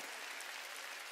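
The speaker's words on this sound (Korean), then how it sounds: "깨달은 사람만 박수해요." A church congregation applauds during a Wednesday worship service, a brief, faint wash of clapping from a crowd heard from a distance.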